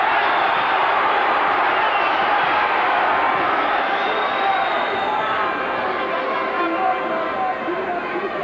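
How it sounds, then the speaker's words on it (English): A large arena crowd at a professional boxing match between Steve Robinson and Colin McMillan chants continuously in a dense, loud roar that holds steady throughout. "it's all the here we go stuff now from the crowd"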